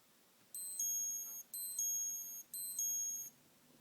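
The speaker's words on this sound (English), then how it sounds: "it's got a very pleasant sounding alarm actually" A Seiko SDGA005 Star Wars R2-D2 digital watch alarm sounds three short bursts of high, chirpy electronic beeping, evenly spaced about a second apart, with no talk.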